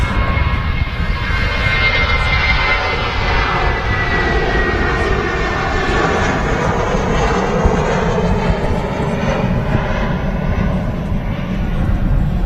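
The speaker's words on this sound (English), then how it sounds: "they got the Aer-Lingus A330 on the taxi out there" An Aer Lingus Airbus A330 taxis at Manchester Airport, its jet engines giving a loud, steady rumbling whine that holds at a constant level throughout, with no talk over it.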